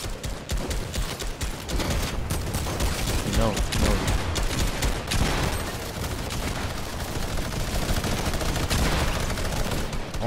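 Enemy player gunfire in the Fortnite game: dense, continuous rapid shooting and clatter throughout, loud and busy with overlapping shots.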